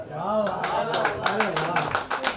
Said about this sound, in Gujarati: હજુ 17 માણસે તાળી પાડી છે